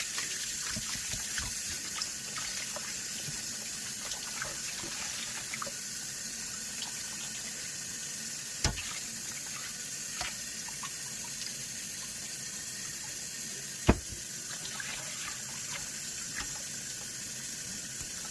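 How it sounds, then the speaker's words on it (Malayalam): Tap water runs in a steady, even gush while chicken is rinsed at a sink, with a couple of sharp clicks and knocks breaking through the constant flow. "ഇനി നമുക്ക് ഒരു ഫൈനൽ ഒരു പ്രാവശ്യം കൂടെ ഒന്ന് വാഷ് ചെയ്തെടുക്കാം"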